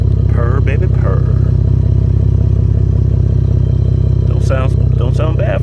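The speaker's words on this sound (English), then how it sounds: "Don't sound bad for a six-banger." A Chevrolet Camaro V6 fitted with an aftermarket exhaust rumbles steadily and loudly nearby, while someone talks over it at the start and again near the end.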